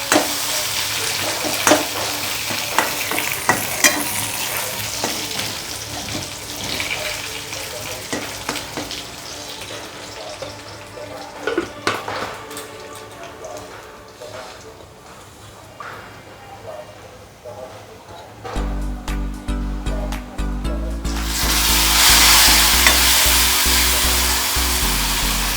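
Garlic tempering with a pinch of salt sizzles and crackles steadily in a pan for dal tadka, with intermittent scraping stirs; the frying grows louder and more hissing toward the end, and a voice may be faintly present.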